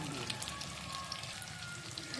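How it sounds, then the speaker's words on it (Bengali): Fish frying in hot oil in a wok, a steady crackling sizzle like rain on a surface, close and continuous for a couple of seconds. "ফ্রাই হচ্ছে।"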